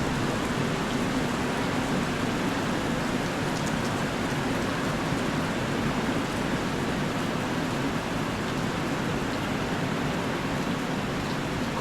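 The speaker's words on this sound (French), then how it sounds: "Quand il pleut, il pleut." Steady rain falling on Gili Meno island near Bali, a dense even hiss of drops on surfaces, unbroken and fairly close throughout, no voices.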